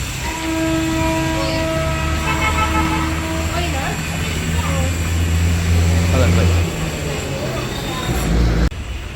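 The Chennai–Trivandrum Superfast pulls out of a Kerala station, a loud, close rumble with a sustained horn blast early on and engine drone, before an abrupt cut near the end.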